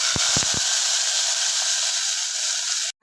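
Small onions, dried and green chillies and garlic hit hot oil in a pan with a few sharp thumps, then a steady close hiss of sautéing that cuts off abruptly at the end.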